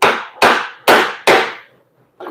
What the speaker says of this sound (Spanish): Voy a darle un pequeño golpe.